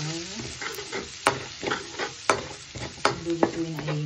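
Butter and pork chop frying in a pan with garlic, a steady sizzle broken by repeated sharp clicks and scrapes of stirring, close and fairly loud, no talking.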